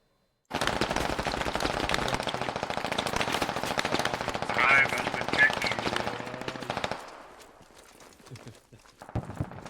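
Sustained automatic machine gun fire in the tactical shooter Squad, a rapid steady stream of loud shots lasting several seconds that drops off into quieter, more distant bursts before picking up again at the end.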